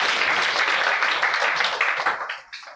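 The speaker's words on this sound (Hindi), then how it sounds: "ताली बजा के धन्यवाद कीजिए।" Applause from a congregation during a church sermon: a dense burst of many hands clapping together, loud and steady, then thinning and fading out at the end.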